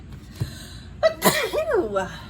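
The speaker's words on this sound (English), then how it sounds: "I feel a sneeze coming on." A single person sneezes close and loud, a sharp burst with a short breathy lead-in followed by a trailing voiced sound, and no other talk around it.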